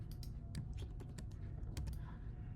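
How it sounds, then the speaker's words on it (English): Computer keyboard keystrokes tap out in a quick, irregular run of distinct clicks, close and moderately loud over a steady low hum. "And then on the keyboard, I'm just going to hit up a few strokes."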